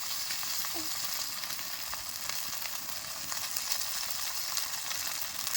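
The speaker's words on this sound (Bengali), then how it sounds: "এই দেখুন দিয়ে সুন্দর করে এপিট ওপিট করে নেড়ে নিতে হবে" Boiled noodles stir-fried with spring onion greens, coriander and egg in a pan, a soft steady sizzle with occasional stirring, close but fairly quiet.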